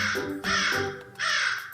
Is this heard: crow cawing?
yes